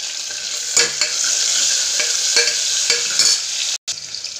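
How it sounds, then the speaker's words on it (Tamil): Onion, green chili and turmeric sauté in a hot pan for vegetable biryani, a bright continuous sizzle broken by repeated scraping stirs, close and loud, with no voices. "மிளகாய், மஞ்சள், நல்லா வதக்கிட்டு"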